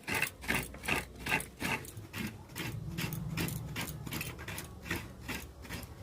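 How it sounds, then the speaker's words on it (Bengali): A coconut is hand-grated by scraping it against a grater for a pitha recipe, making rhythmic rasping strokes close up that merge into a continuous scrape midway, with no talking. "নারকেলটাকে ভালো করে কুড়ে নিতে হবে।"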